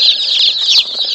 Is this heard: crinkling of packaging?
no